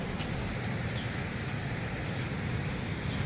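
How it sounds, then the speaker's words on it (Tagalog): Strong ocean waves surge at Sibang Cove, making a constant loud wash of surf mixed with wind buffeting the microphone. "Ang lakas ang alon."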